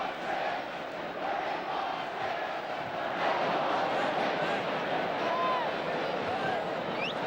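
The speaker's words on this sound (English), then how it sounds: "Crowd shouting, "We want 6."" Football crowd at a West Ham United versus Wolves match chanting "We want 6", a dense, sustained roar of many voices with rising shouts throughout, loud and continuous without a break.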